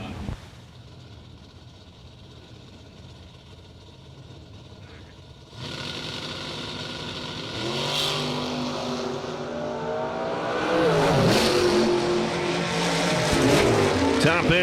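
A Camaro drag race car at a drag strip idles quietly, then its engine jumps louder and climbs through repeated revving surges into a loud, rising launch roar with tire noise, and an announcer talks over it.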